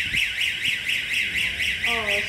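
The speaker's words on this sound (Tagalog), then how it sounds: "Ayan, nag-a-alarm po siya." A storage unit alarm goes off as the unit is opened at a large storage facility in Metro Manila, a steady warbling electronic tone repeating throughout, loud and continuous, with a faint voice and a brief beep near the end.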